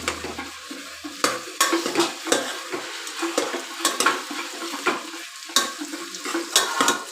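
Food frying in a little oil and being stirred: repeated scraping strokes through a steady hiss and sizzle, close and fairly loud, with no voices.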